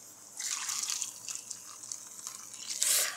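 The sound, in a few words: pouring water into a pot of beet soup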